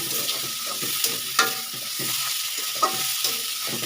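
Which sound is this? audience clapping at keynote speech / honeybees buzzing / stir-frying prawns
stir-frying prawns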